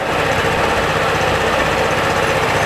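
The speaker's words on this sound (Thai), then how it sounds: "ตอนนี้สตาร์ทเครื่องยนต์เรียบร้อยนะครับ" A Tuscany 150 motorcycle engine idles steadily nearby, a loud, even rumble with a rapid chugging pulse and no change in pace.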